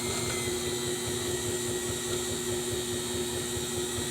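Stand mixer running with a single beater in a small bowl, a steady motor whine with a low rhythmic churn of batter for banana pudding cake, continuous and fairly close with no talking.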